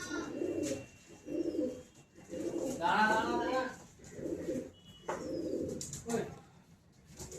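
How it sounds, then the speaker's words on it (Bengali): Teddy pigeons coo in a loft in repeated low, rounded bursts, several close calls with short pauses between them. A voice is heard briefly in the middle. "সব পায়রাগুলো একদম সুপার কোয়ালিটির পায়রা আছে"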